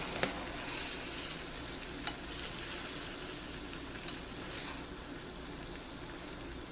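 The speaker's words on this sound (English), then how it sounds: "You just want to run your spatula through it a few times" Frittata eggs fry in a pan as a spatula is run through them a few times, giving a continuous close sizzle with occasional faint scrapes and clicks and no voices.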